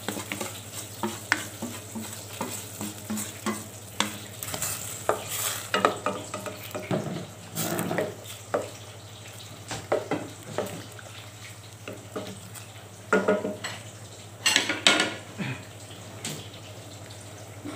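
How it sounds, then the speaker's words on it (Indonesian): Spice paste being stirred into boiling water in a pot for bamboo shoot and long bean lodeh, with faint bubbling and repeated scraping and clattering strokes of a spoon across nearly twenty seconds. "ini sudah mendidih airnya"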